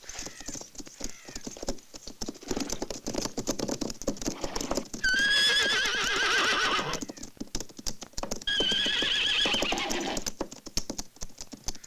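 Rapid hoofbeats of several galloping horses patter continuously, with two loud neighs breaking in midway, close by, in a western film.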